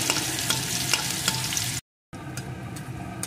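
Crushed garlic cloves fry in oil after red chillies, making a loud, dense sizzle with spoon scrapes and clinks. A brief dead-silent gap interrupts it before a quieter sizzle resumes.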